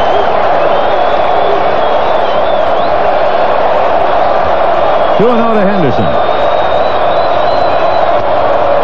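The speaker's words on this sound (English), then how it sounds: "And now this crowd that has been so quiet since the third inning comes alive." Crowd at a 1988 World Series baseball game between the Dodgers and the A's in Oakland, a loud, steady stadium roar and cheering throughout, with a broadcaster talking over it.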